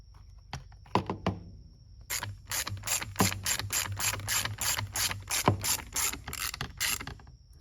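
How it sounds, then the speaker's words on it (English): A ratchet clicks in quick, rhythmic bursts while small 5/16 nuts are tightened during a Switch-Pro install on a 2020 Yamaha YXZ. A few separate clicks come first, then a long run of close, crisp strokes. "then I'm going to tighten the nuts"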